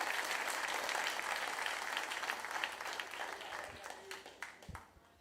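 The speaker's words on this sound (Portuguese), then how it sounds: "Pode aplaudir se quiser, fique à vontade." Church congregation applauding during a Portuguese-language sermon, a broad wash of many hands clapping that starts full and thins out toward the end, with some voices mixed in.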